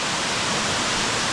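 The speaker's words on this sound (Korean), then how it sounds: "황금폭포." Water of the golden waterfall inside Gwangmyeong Cave rushes in a steady, dense broadband roar, continuous and fairly loud with no voices over it.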